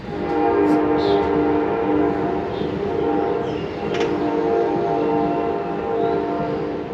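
A passing train keeps sounding a steady, loud horn over rumbling rail noise outside a car workshop, with brief faint clicks over the drone.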